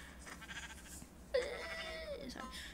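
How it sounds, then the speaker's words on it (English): A Minecraft sheep gives one clear, drawn-out bleat up close, loud and alone, with faint game ambience before it. "Ooh, sheep."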